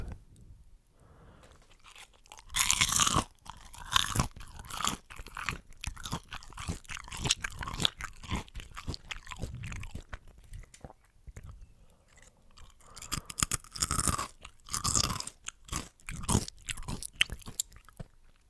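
Homemade tempura mushroom, dipped in tentsuyu and flaky sea salt, crunched and chewed up close, with loud crisp bites followed by a long run of rhythmic crackly chewing that swells and fades.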